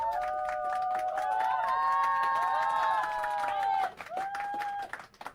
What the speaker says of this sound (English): They sound the same every time they cheer, though.